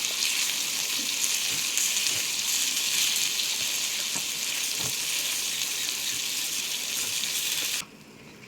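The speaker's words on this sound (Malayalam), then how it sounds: "മീൻ മൂത്തിട്ടുണ്ട്. തിരിച്ചിടുകയാണ്." Fish frying in a pan, a steady broadband sizzle that holds loud and even for nearly eight seconds, with a few soft clicks of the pieces being turned, then drops suddenly to a much quieter hiss near the end.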